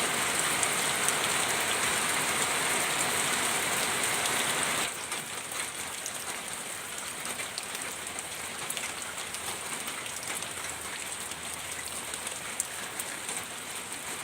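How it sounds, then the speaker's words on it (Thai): Steady rain pours onto surfaces, a dense hiss of drops that drops a notch in intensity partway through and then continues evenly, close by. "เอาฝนมาฝากอีกแล้ ว ฝนเย็นสบายนะคะทุกคน"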